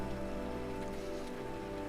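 Rain falls steadily in the Rainswept video game, a soft continuous patter under a low droning background hum, faint and unchanging over a short stretch.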